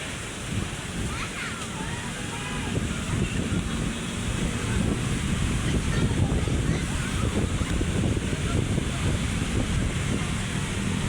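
Waves wash continuously along the seashore of Manila Bay, a broad, steady surf rush mixed with wind buffeting the microphone and faint background voices, growing slightly louder midway.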